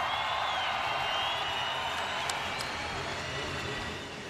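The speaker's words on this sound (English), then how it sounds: "One more round of applause, you guys" A crowd cheers and applauds at a Harley-Davidson Flat Out Friday event, a broad, steady wash of noise at moderate distance that eases slightly toward the end.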